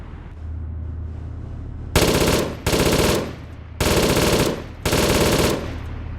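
Machine gun fire in the video game ARMA 3, four sustained loud bursts, each lasting about half a second to a second, separated by short gaps over a low engine rumble.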